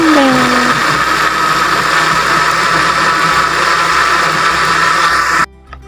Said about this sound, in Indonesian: Lalu kita blender.